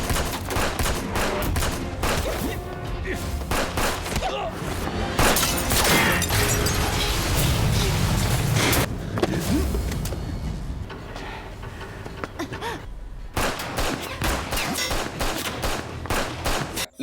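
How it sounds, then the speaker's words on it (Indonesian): Rapid gunfire from a close-range pistol fight in a film scene, dense bursts of shots and fusillades crackling almost continuously with booming impacts, loud and near, briefly thinning before resuming. "Keren sekali pertarungan pistol dari jarak dekat."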